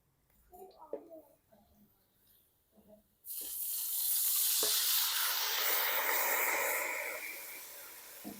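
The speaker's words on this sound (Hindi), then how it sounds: "तो अभी मैं इसके अंदर थोड़ा सा पानी डालूंगा।" Water is poured into a hot pan of light-browned onions, setting off a sudden loud hiss and sizzle that stays strong for several seconds; someone talks quietly before the pour.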